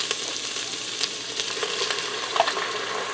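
Beef cubes seasoned with salt and pepper brown in a pressure cooker set to sauté, giving a steady close sizzle and frying hiss with faint stirring clicks and no talking.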